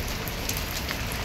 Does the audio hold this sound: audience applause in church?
no